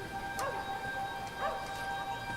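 A dog barks twice in the opening scene of Wolfenstein: The New Order, short yelping barks about a second apart, moderately distant over a quiet ambient backdrop with faint tonal hum.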